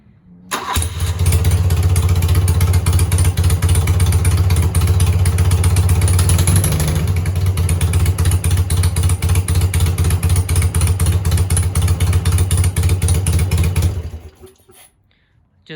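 A BMW R80/7 motorcycle engine starts and runs at a steady, loud, throbbing idle for about thirteen seconds before cutting off abruptly when the ignition is switched off, leaving near silence.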